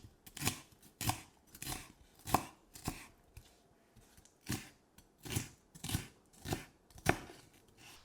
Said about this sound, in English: Now slice or dice thinly.